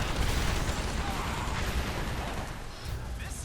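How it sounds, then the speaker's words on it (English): Homing rockets firing in the video game Earth Defense Force: Insect Armageddon, a dense roar of blasts and explosions rumbling continuously and loudly for a few seconds. "these rockets would both seek out the same targets"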